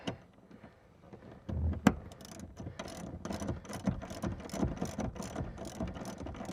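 A socket ratchet wrench tightening a seat bolt in a 2021 Toyota Tacoma, giving a run of quick, close mechanical clicks in short bursts over faint background noise.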